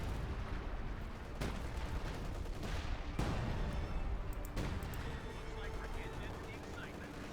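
Bursts of machine gun fire and other gunfire in a Company of Heroes 2 battle between OKW and US forces, sharp cracks at irregular intervals over a dense battle din, with a commentator talking throughout.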